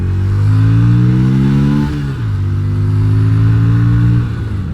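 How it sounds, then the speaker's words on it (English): Yamaha Virago XV250 motorcycle with pod filters and drilled setup pulling away and accelerating hard, a loud, close engine note climbing steadily in pitch, dipping briefly at a gear change, then rising again. "It accelerates through to 60 without bogging down, lagging."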